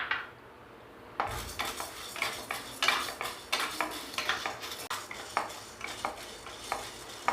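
Toor dal being dry-roasted in a pan for rasam powder, with a steady rhythmic scraping and clatter of a spoon stirring against the metal, close and repeated about twice a second after a sharp start.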